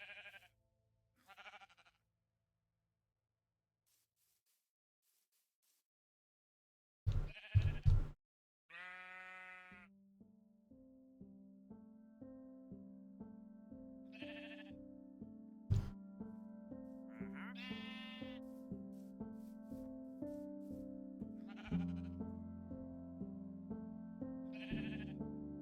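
Sheep in Minecraft bleat in short, scattered cries, first alone in near silence, then over a repeating pattern of clicking, plucked tones from a redstone contraption.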